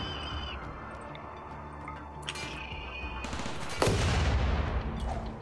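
RimWorld game sound effects with a sudden heavy cannon turret blast midway, followed by a loud rumbling roar, over a steady mechanical hum.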